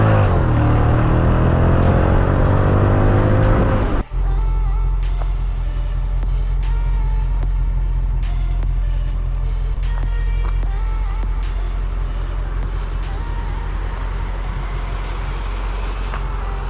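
A 2005 Mercedes-Benz CL55 AMG (C215) on the road: steady engine drone and rolling tyre noise, with a sharp shift at the start as the car pulls away, then an even cruise.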